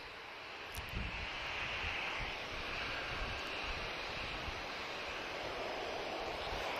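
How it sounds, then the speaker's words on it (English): Ryanair airliner arriving at Lisbon Airport, a steady, distant roar of jet engines with broad wind-like rush that holds level throughout, no voices. "Another spirited arrival from Ryanair."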